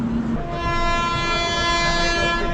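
A train approaching a Konkan Railway station sounds a long, loud horn blast over a steady rumble of wheels, close by and with no voices.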